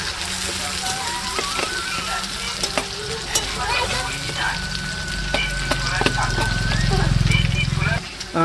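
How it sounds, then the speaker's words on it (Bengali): Green beans fry in a hot pan for a village-style dish, a steady wet sizzle broken by the clicks and scrapes of stirring. The sizzle swells louder toward the end. "যার জন্য আগে বিনসটা আমি ভেজে নিচ্ছি।"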